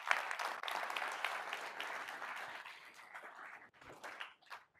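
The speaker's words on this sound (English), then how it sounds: "I want to do a round of applause for our powerful sales team in this room today." An audience at a live corporate sales event in a room gives steady applause, fairly quiet and at a distance, building at first and then thinning into scattered clapping.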